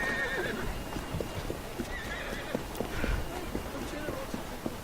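A horse in the Assassin's Creed Syndicate video game gallops with steady clip-clopping hooves and lets out neighs and whinnies, the hoofbeats running continuously throughout with game ambience beneath.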